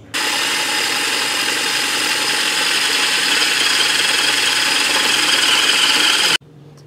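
A press sets a 5/16 riv nut, giving a loud, steady mechanical whirring and grinding that holds for about six seconds and then cuts off abruptly.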